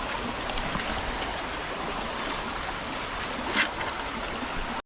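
The flooded Kajali river in a Konkan village rushes past in a continuous broadband churn, steady and fairly close, with no voices over it.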